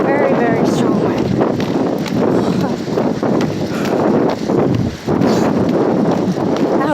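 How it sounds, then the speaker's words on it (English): Very strong wind roars and buffets a microphone outdoors in loud, continuous gusts, with a brief lull near the end before the blasting resumes. "wind. Very, very strong wind."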